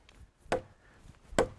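A butcher knife strikes a hardwood log twice, each blow a sharp, solid chop about a second apart, with quiet outdoor background between hits.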